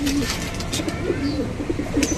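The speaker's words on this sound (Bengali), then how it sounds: "এই যে একটা কবুতর" A Jabra pigeon kept in a loft for flying coos in soft repeated low calls, close by, with no talk over it.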